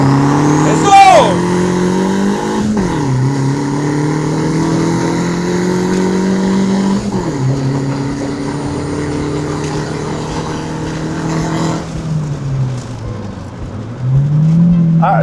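A turbocharged Honda Civic built on a tight budget pulls hard in a 0-100 acceleration run, its engine note climbing through repeated gear-change sweeps, loud and close throughout with some voices underneath.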